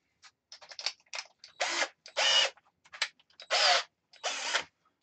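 A power drill fitted with a drill bit in a small woodturning shed whirs in a series of short bursts and longer half-second runs, close and clear, with silence between them.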